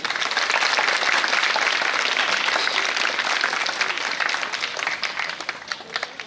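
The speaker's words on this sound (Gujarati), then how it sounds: "અને તાળીઓ થઈ જાય" An audience at a talk event applauding, a dense sustained burst of clapping from many hands that stays loud, then thins into scattered claps as it fades toward the end.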